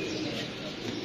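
Pigeons flying past in a flock from a rooftop, heard as a steady, broad rush of wing flutter and soft cooing that holds evenly throughout without clear pauses.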